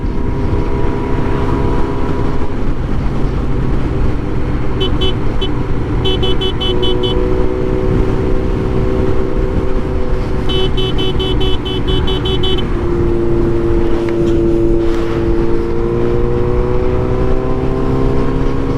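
A Suzuki GSX-S 750 and a Yamaha MT-09 motorcycle drag racing, a loud steady engine roar with rising and falling revs through gear changes, continuous and close throughout.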